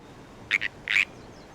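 Frogs croaking in the game Final Fantasy XIV: three short, bright croaks, two quick ones and then a longer one, clear against a quiet background.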